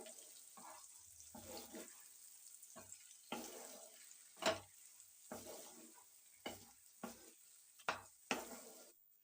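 A spoon stirs fish curry with fried capsicum, tomato and onion in a pan, giving a series of separate scraping and clattering strokes with soft sizzling between them, close and fairly quiet.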